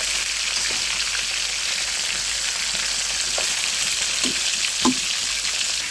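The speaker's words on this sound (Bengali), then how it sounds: "আমি আরও একটা পাশ উল্টে দিয়ে খুব সুন্দর করে ভেজে নেব।" A catla fish head fries in an oil-filled pan, a steady loud sizzle throughout with a few soft crackles and spatters.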